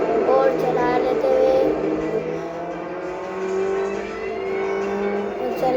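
A race car in the Rally Fury video game accelerates steadily, its engine tone climbing and holding loud and close throughout, with no one speaking.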